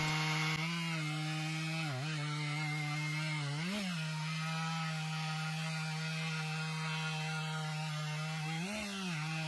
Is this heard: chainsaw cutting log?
yes